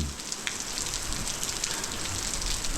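Heavy rain pours steadily onto surfaces at a game farm, a dense, continuous hiss with no pauses.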